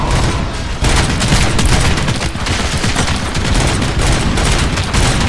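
Dense, continuous gunfire pounds in from all sides at the player in the shooter game Robocop: Rogue City, a loud unbroken barrage of rapid shots with heavy impacts.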